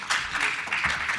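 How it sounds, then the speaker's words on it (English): A short patter of audience clapping at a data science conference as a speaker is welcomed, a few quick claps in a room. "Please applause Silvio."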